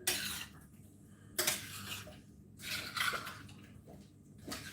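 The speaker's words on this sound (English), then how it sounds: "So stir it all in." Meatball sauce is stirred in a pan in a quiet kitchen, giving soft, intermittent scraping bursts of utensil against cookware at a slow, uneven rhythm, with hushed pauses between strokes.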